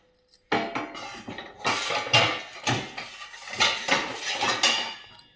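Ceramic plates and steel utensils clatter and clink as they are stacked into a Bosch dishwasher rack, a steady run of close, loud knocks and rattles with short pauses between.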